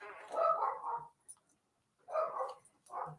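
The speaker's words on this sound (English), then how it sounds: "you'll hear the dogs barking a little bit" Dogs bark in two short bursts of rapid, mid-distance barking with a quiet pause between them.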